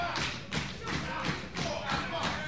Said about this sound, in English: Banging on that turnbuckle.